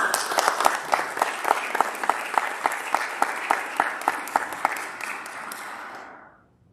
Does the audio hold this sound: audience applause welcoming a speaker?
yes